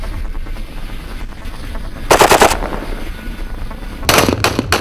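Gunfire exchanged between Pakistan Rangers Sindh anti-terrorist forces and suspects: two loud, close bursts of rapid shots against an ongoing rumbling background.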